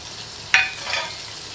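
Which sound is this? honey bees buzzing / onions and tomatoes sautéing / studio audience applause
onions and tomatoes sautéing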